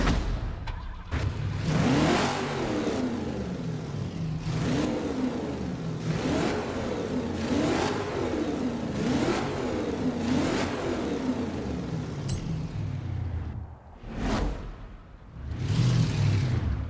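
In Forza Horizon 4, an early-90s Chevy Camaro IROC-Z V8 revs repeatedly, its engine note climbing and dropping in a steady rhythm of loud surges, with a brief lull before a final rev.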